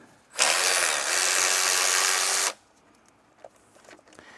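An impact wrench on a BMW M62TU 4.4-litre V8 removes an engine cover bolt in one loud, sustained two-second burst. Quiet clicks and handling noises follow close by.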